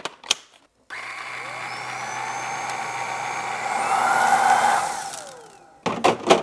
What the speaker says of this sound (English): There is a powered brush, spins with power from the handheld.